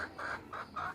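A black Kadaknath hen clucks in a steady rhythm of four short calls, moderately near but fairly quiet, against faint outdoor background noise.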